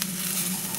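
Onions and peppers fry together in a pan for a Turkish şiş kebab and meyhane pilaf meal, giving a steady, close, even sizzle with a faint low hum beneath and no talking.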